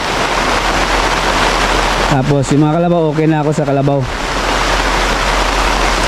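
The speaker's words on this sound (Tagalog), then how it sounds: "Malakas yung ulan." Heavy rain pours in a steady, dense hiss from start to finish, with a voice speaking briefly over it in the middle.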